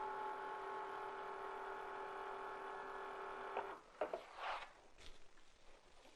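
A Cricut cutting machine kiss cutting vinyl whirs with a steady mechanical hum of layered motor tones for several seconds, then stops, followed by a few soft clicks and shuffling handling noises nearby.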